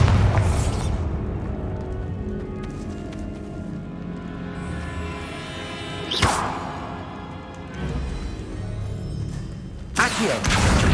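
Confringo and Bombarda spells go off in Hogwarts Legacy on PC, with a deep boom at the start followed by two more sharp blasts, each with a crackling burst over a low rumbling game backdrop.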